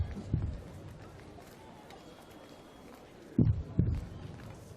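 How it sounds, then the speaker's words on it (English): Fast heartbeat sound effect: a few deep, muffled thumps arriving in quick pairs, loudest near the start and again toward the end, over a low, murky background. "The heartbeat was going really fast"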